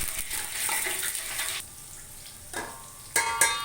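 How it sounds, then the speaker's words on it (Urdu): Six finely chopped medium onions hit hot oil for a dhaba-style chana dal, producing a loud, close sizzle that eases after a moment, then flares again with a few stirring knocks. "آئل گرم ہو چکا ہے۔ اب میں جو ہے 6 عدد درمیانے سائز کی باریک کٹی ہوئی پیاز اس میں"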